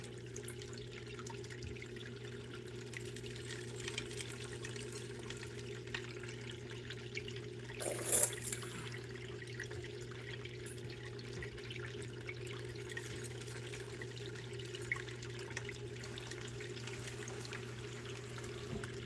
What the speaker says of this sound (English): So this water is coming in here, it's hitting the bowl and flushing a lot of this stuff back out the other side.